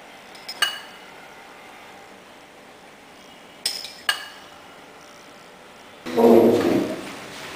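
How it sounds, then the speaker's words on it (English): A metal spoon clinks a few times against a hot pan while marinade is spooned over bacon-wrapped shrimp, sharp light taps spaced apart, ending in a louder burst of sizzling and scraping. "I'm going to spoon some of this marinade over this so it'll nicely caramelize"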